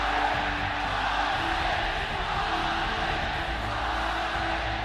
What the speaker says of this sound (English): Power of the home crowd support